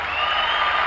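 A short burst of applause from an audience on a talk show, steady dense clapping at moderate volume with no gaps, sustained for under a second.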